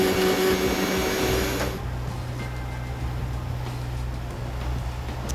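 A blender aboard a boat at sea whirs loudly through Greek yogurt, honey, blueberries, soy milk and oats. It cuts off after a couple of seconds, leaving a steady low motor drone.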